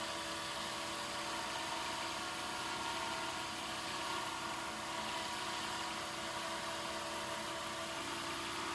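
A lathe spinning at about 2,000 RPM buffs the finish on a teal pen, giving a constant whirring motor hum with a faint high whine, steady and unbroken with no talk.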